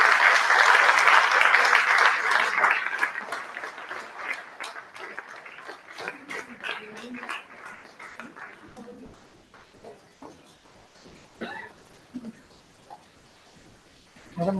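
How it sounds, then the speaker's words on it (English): Audience applause at an award ceremony, loud dense clapping at first that thins and fades into scattered claps and murmuring voices over about fifteen seconds. "Let's give a big round of applause to Ms."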